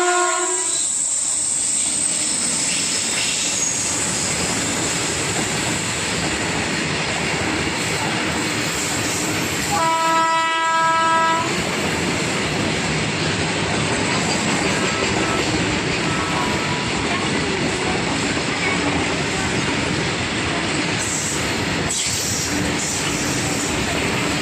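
A train arrives at Kotabommali railway station, its loud rumble of wheels and wagons rolling through, with a long blaring horn around the middle, continuous and close.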